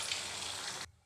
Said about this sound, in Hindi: बस इसी तरह से हम दूसरा बैच भी फ्राई होने के लिए डाल देंगे।